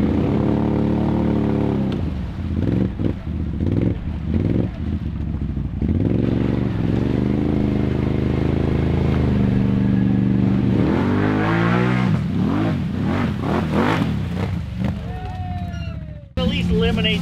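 A Can-Am 4x4 off-road side-by-side climbs a slick trail, its engine revving hard and close, rising and falling in pitch with clattering and scraping, and voices talk over it.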